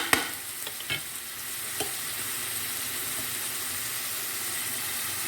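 Pork, chicken and rice mixed together in a pan, with a steady soft sizzle and hiss throughout and a few faint scraping knocks near the start.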